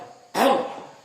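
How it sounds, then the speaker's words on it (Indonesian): A single forceful throat clearing pushed from the stomach, a short sharp burst that fades over half a second, close and alone. "Dehem dengan perut."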